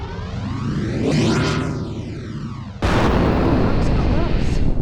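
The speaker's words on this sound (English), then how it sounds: "Explosion must have jarred it into action." A loud explosion in the PS1 game Overblood: a sweeping whooshing roar builds, then a sudden heavy blast rumbles on at full strength to the end.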